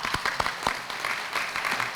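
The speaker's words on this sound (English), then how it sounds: "Round of applause, and you can have a seat after that." A courtroom crowd applauds new citizens at a naturalization ceremony, brisk, dense clapping from many hands that fills the short moment without talk.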